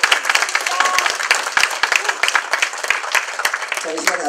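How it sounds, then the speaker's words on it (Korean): Audience applause fills a campaign launch rally for a state senate candidate, a steady wash of many hands clapping with sharp individual claps throughout, and an announcer's voice cutting in over the crowd near the end. "다시 한번 힘차게 당선 확신하는 박수입니다."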